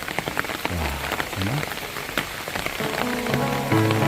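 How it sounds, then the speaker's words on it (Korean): Steady rain falls on an outdoor garden cafe with pink lace-trimmed parasols, a continuous patter that fills the clip at moderate loudness, with faint voices or other background sounds underneath. "비가 와도 이렇게 운치가 있고 분위기가 좋은데"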